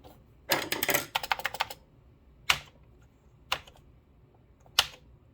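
Keys on an old Commodore 128 computer keyboard clatter in a quick burst of presses, then three single sharp clicks follow at spaced intervals, close and crisp.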